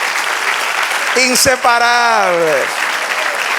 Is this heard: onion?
no